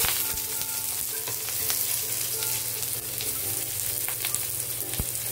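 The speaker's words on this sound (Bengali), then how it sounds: "তেলটা কড়াইতে ভালোভাবে লাগিয়ে দিলাম, ভালোভাবে এটা গরম হয়ে গেছে। এখন আমি অর্ধেকটা পেঁয়াজ দেব" Onion sizzling in hot oil in a wok, a continuous crackling fry with scattered sharp pops and faint stirring clicks, close and alone.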